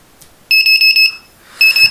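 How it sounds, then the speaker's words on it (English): A digital alarm clock built on an Arduino multi-function shield sounds its alarm: loud, close electronic beeps in two bursts of rapid repeated pulses separated by a short pause. "So the alarm went off as we expected."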